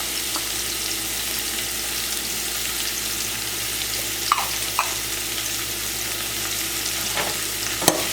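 Potatoes with green onions and tomatoes fry in a pan, giving a steady, close sizzle throughout, broken by a few sharp clinks of a utensil stirring.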